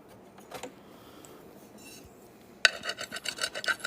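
Copper foil burnished onto stained glass pieces, starting after a quiet stretch as a sudden run of rhythmic rubbing strokes, close and fairly loud.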